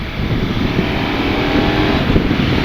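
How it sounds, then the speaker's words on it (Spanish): A KTM 1290 Super Adventure S 2023 motorcycle engine roars steadily and loudly at close range as it accelerates, a dense low rumble that holds throughout without pause. "el abrir y gas de esta moto es brutal"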